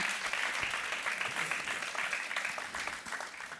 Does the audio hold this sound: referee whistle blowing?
no